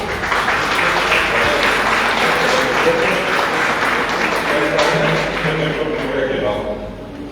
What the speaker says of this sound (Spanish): Y ellos vamos a recibirle también con un aplauso.